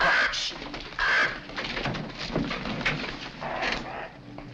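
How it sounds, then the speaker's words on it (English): A pigeon or dove cooing close by, soft throaty coos repeating at the start and again in the middle, with faint voices and room noise from a 1943 film beneath. "Oh, that dreadful bird. Please drive it away."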